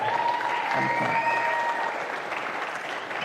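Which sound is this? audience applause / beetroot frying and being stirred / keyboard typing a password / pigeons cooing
audience applause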